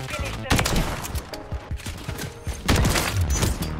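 Rapid video game gunfire from a Search and Destroy sniping match bursts in quick repeated shots and thumps, loud and close, mixed with a player's voice.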